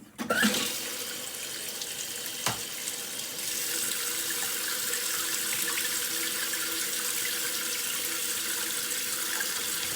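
Water rushes steadily into a Kohler toilet tank after the supply valve at its base is opened, following a flush valve kit 1208883 replacement; a continuous close hiss with a brief knock early on, no talk.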